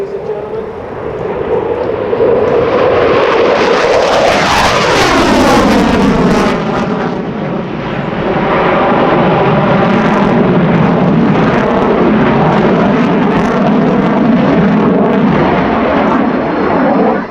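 An F-15C Eagle fighter jet makes an afterburner pass at an air show, a loud roaring rush that swells and sweeps past with a pitch-shifting drone, then keeps rumbling steadily as it moves away.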